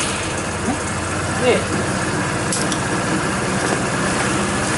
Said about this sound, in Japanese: そしたらエンジンをねまず始動します。